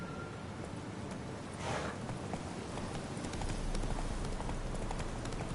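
Roach, a horse in The Witcher 3, trots along with a steady, rapid clip-clop of hooves, moderately loud and continuous over a dense wash of background game ambience.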